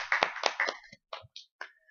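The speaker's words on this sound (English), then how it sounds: "Everyone give him another round of applause." A handful of close, sharp hand claps ring out in a brief, uneven burst and quickly thin to scattered single claps before stopping.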